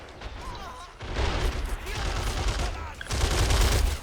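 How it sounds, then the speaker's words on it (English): Machine gun laying down suppressive fire in the war strategy game Men of War: Assault Squad 2, loud dense bursts of rapid gunfire mixed with other battle shots and crashes, with a voice talking over the fighting. "this machine gun here is able to get a lot of suppressive fire out"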